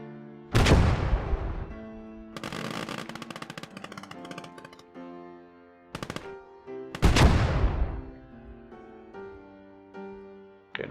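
Heavy gunfire in the WWII game Gates of Hell: Ostfront, a loud booming shot with a long ringing decay, then a rattling burst of automatic fire and a second big blast, with no talking.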